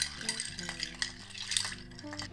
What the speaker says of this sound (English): With all the ingredients in there, go ahead and give that a quick stir